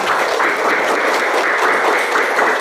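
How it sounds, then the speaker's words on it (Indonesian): Steady, even applause from an audience of students in a classroom, a continuous wash of clapping lasting throughout at close range. "tepuk tangan buat kita semuanya"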